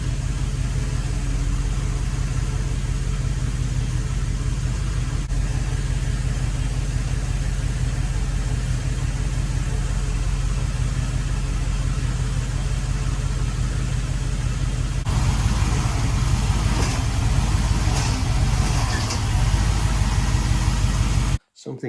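A 1974 Jensen Interceptor's engine runs steadily at idle with a constant low mechanical drone and hiss, a slight change in character partway through, then cuts off abruptly at the end.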